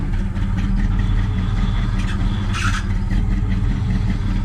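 A 1970 Chevy big block V8 idling steadily with a deep, loud low rumble, heard up close and alone, with a short higher-pitched rattle or squeal partway through.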